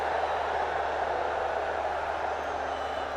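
Steady wash of crowd noise fills a stadium at a women's football match between Nepal and Bangladesh, a continuous even murmur with no distinct cheers standing out.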